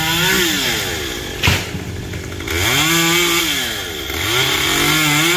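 A chainsaw cuts a long tree branch, loud and close, its engine pitch rising and falling in sweeping revs as it bites and eases off through the wood.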